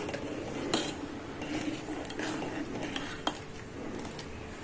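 Basundi milk being stirred in a pot, a spoon scraping and clinking against the metal sides in steady strokes, close and fairly quiet over a soft background hiss.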